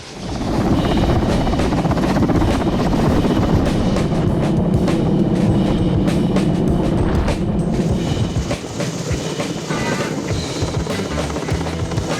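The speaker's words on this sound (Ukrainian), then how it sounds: "Запуск двигуна і довжелезні лопаті розривають повітря" Military helicopter with long rotor blades spinning up as paratroopers rappel on ropes, a loud, dense, continuous engine roar and rotor throb that fills the whole stretch with no talk.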